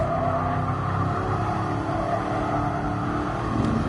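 A Mercedes-AMG Black Series car cruises around the Nürburgring, its engine droning steadily and fairly loud throughout with a constant road and wind roar.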